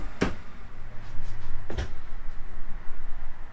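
Two sharp knocks, about one and a half seconds apart, as kitchen drawers without soft-close slides bang open and shut in a 2021 Keystone Fuzion Impact 367 toy hauler. Both are close and distinct over a low steady hum.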